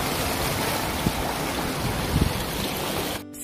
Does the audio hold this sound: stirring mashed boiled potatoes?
no